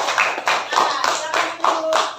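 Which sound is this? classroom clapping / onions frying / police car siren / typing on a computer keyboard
classroom clapping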